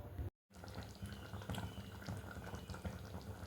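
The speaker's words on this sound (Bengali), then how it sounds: "বসিয়ে দিয়েছি গ্যাসের উপরে আর ফুটতেও শুরু করে দিয়েছে" Onion, garlic and ginger paste mixture bubbling in a pot on a gas stove, a steady close simmering crackle and faint popping that runs continuously after a brief break near the start.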